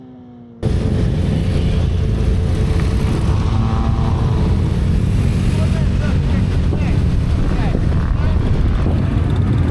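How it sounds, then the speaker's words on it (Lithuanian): Small propeller planes flying over an aerodrome during a motorcycle season-closing event, a loud, steady engine drone that cuts in abruptly after a quiet moment, with wind rush over the microphone. "Lėktuvėliai aerodrome skraido"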